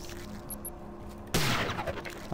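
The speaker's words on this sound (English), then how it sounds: "What is he shooting at?" Gunfire in the video game Prey: a sudden loud burst of shots cuts in partway through over a steady game background, with a couple of brief high electronic beeps beforehand.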